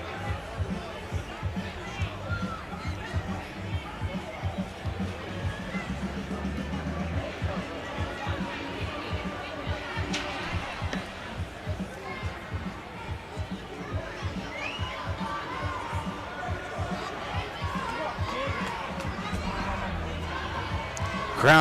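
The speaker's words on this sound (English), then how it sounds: "Crowd's really getting into it now" Hockey crowd at a Manotick Mariners versus Tweed Oil Kings finals game, a steady roar of cheering and hollering with dense babble and occasional thumps, sustained throughout.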